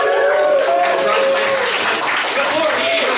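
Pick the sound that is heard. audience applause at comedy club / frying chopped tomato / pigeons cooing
audience applause at comedy club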